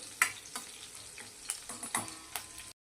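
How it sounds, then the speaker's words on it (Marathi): Fenugreek, garlic and cumin sauté in hot oil with a soft, steady sizzle. Close, sharp scrapes and clacks of stirring repeat every half second or so, then it cuts to silence. "मेथीचा कच्चेपणा जाऊपर्यंत आपल्याला हे चांगलं परतून घ्यायचं आहे"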